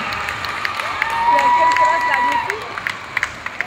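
An audience at a Miss Outre-mer pageant final in Paris applauds the second runner-up, a sustained crowd of clapping and cheering with a rising swell in the middle, a sustained tone running through it and sharp claps standing out near the end.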